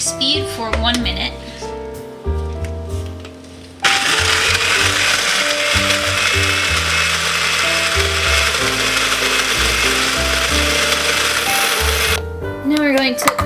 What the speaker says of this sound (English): Blend it on high speed for 1 minute.